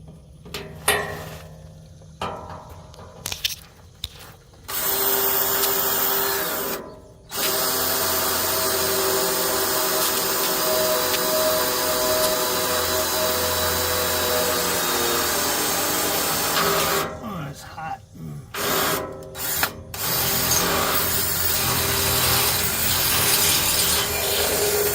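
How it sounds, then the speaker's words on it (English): Power drill boring a new hole on a Freightliner truck during a light bar install: a long, steady, loud whir that starts and stops in short bursts before settling into continuous drilling, close by. "So I'm going to have to try to drill a new hole"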